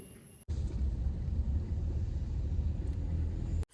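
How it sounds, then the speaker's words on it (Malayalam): A deep, continuous low rumble rolls in abruptly and holds steady for a few seconds before cutting off, with no voices. "ഇടിവെട്ടുന്നത് കേൾക്കാവോ?"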